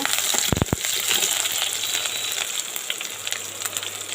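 Onion and garlic fry in hot oil with popped mustard seeds and a red chili in a pan for kulambu, making a steady, close sizzling hiss with a few sharp crackles near the start.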